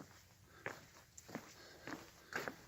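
Footsteps on a wooden boardwalk in a quiet forest: four soft, evenly spaced thuds, close and faint, with no voices.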